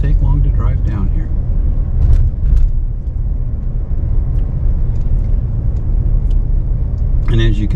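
A car drives slowly down a narrow road in Acadia National Park, its engine a steady low rumble throughout, with a voice talking over it near the start and again at the end.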